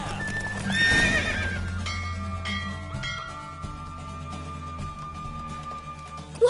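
Horse neighing loudly near the start, then galloping on in The Witcher 3 race, hooves pounding under sustained game music, with a sharp thump at the very end.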